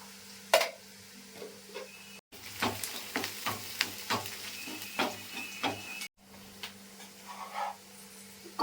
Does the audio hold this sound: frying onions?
yes